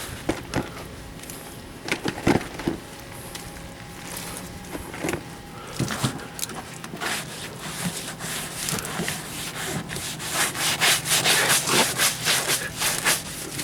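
A sponge scrubs a dirty rear bumper of a 2004 Kia Spectra outdoors with heavily soaped water, rhythmic rubbing and squeaking strokes building in intensity toward the end, close by with no speech.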